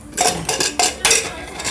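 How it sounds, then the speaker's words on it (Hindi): A metal pressure cooker lid is worked open after the steam has been let out while cooking daal, giving several short, close clinks and scrapes of metal against metal with brief pauses between them. "गैस ख़त्म हो चुकी है और अब मैंने इसे खोल रही हूँ कुकर को।"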